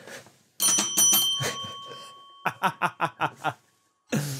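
A Foley bicycle bell rings in a sustained ding with lingering overtones, then a quick string of about seven bright, evenly spaced dings, and a final ring cut off at the end; no talking.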